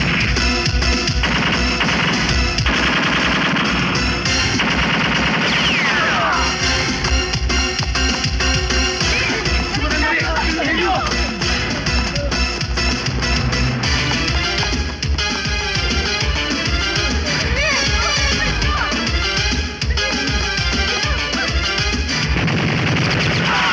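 Sustained gunfire from a movie shootout, rapid bursts of shots and crashing impacts filling the scene continuously and loudly, with no talk over it.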